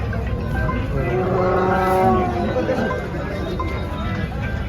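Cows at the Chalisgaon cattle market give drawn-out, lowing moos over a steady bed of crowd babble and livestock bustle, close and fairly loud throughout.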